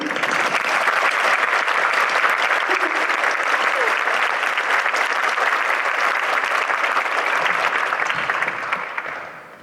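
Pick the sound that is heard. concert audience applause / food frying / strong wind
concert audience applause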